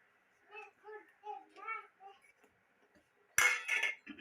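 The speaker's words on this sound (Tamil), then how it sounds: "இப்போ முந்திரியை போட்டு அம்மா கிண்ட போகிறாங்க." Jackfruit halwa with cashews being stirred in a pan, heard as a brief burst of metallic clinks and scraping near the end, after a stretch where a voice speaks over a quiet background.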